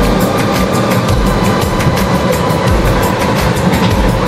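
A steady, loud rumble with faint rhythmic clatter comes from an amusement park train ride at a resort in Keraniganj, Dhaka, recorded from inside a carriage.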